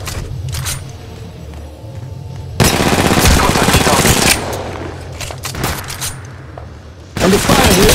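Gunfire in Apex Legends Mobile: loud automatic bursts break out in two heavy stretches with quieter shots between, mixed with game effects and a brief voice callout.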